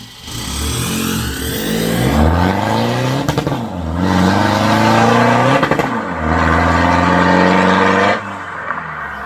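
Remapped Ford Ranger pickup truck revving hard at a test track, loud and close, with repeated rising engine sweeps and abrupt cuts between each burst, no talking.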